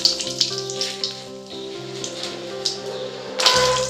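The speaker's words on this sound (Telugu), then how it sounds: "అవి కొద్దిగా ఫ్రై కాగానే మనం శనగపప్పు కూడా వేసేద్దాం కొంచెం ఫ్రై కావాలి" Peanuts fry in hot oil for lemon pulihora, a light crackling sizzle with scattered pops and ticks, close and fairly quiet beneath steady background hum and a brighter burst near the end.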